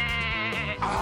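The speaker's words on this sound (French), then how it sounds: "Oh non, la chèvre est montée sur la table." A goat bleats in one continuous, loud, wavering cry up close, with a brief dip near the end before the voice swells again, alone without talk.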